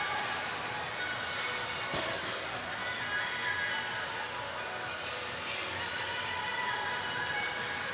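Crowd at a men's college ice hockey game between Fitchburg State and UMass Dartmouth, a steady diffuse murmur of many voices with scattered shouts filling the arena throughout.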